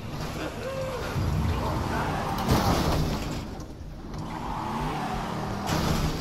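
Car engine in the Resident Evil 7 video game, a steady droning rumble that swells and eases as the vehicle is driven, heard alongside background game sounds and some talk.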